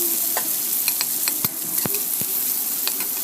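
Ginger, garlic and onion frying in a pan in a home kitchen, a loud steady sizzle throughout with occasional sharp scraping clicks of a spoon stirring.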